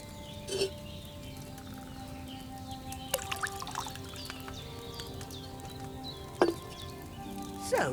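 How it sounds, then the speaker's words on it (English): Wine poured into a cauldron in Kingdom Come: Deliverance II, soft liquid splashes and trickles with a few sharp clinks at intervals, fairly quiet against a faint ambient bed. "So, what did you pour in there? Wine, of course."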